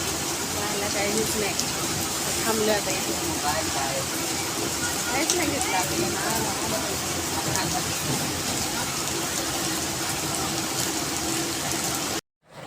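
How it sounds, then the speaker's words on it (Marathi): Heavy rain pours steadily in a dense, constant hiss with scattered drops spattering on nearby surfaces, ending abruptly. "आम्ही अडकलो पावसात बाहेर पाऊस यायला"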